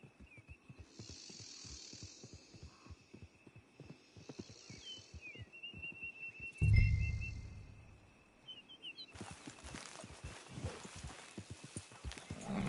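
Horse hooves clip-clop at a steady walking pace in Red Dead Redemption 2, with faint birdsong over them, a sudden low thump partway through, and ambient outdoor game sound afterward.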